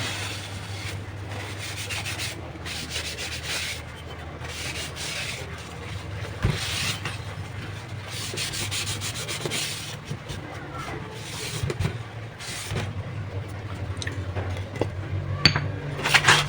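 Steady rubbing and scrubbing strokes cleaning a freshly sharpened machete blade, a continuous close abrasive swish with occasional faint metallic clinks, alone with no talk.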